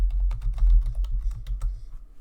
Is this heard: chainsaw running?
no